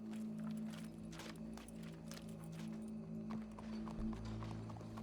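A horse in Red Dead Redemption 2 clip-clops with steady hoofbeats over a constant low mechanical hum. A deeper thump comes near the end.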